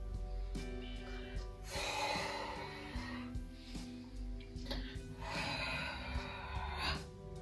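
Slow, deep breathing during a pelvis and hip recovery exercise: long, steady inhales and exhales in a rhythmic cycle, close and clear over a faint background tone, with no speech.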